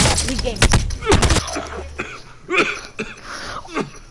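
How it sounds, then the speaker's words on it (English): Repeated coughing crackles over an online voice chat during a Fortnite match, rough bursts tangled with game gunfire sounds and overlapping voices. "Bro, why do I just hear coughing?"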